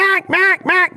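Duck call blown by a caller, three loud nasal quacks in a steady rhythm, close and alone.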